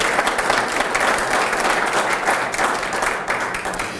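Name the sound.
audience round of applause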